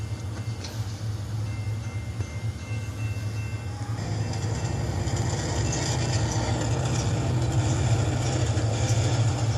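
A freight train running fast, a loud, close, continuous rumble and rush of rolling wagons that builds slightly and holds steady to the end.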